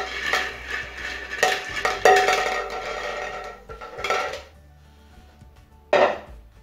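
Paper slips for a team draw being mixed in a bowl, a close clattering shuffle with rattling strokes that pauses and then ends in one last clink.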